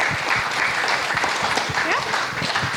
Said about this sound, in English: please give a big round of applause for these amazing young authors.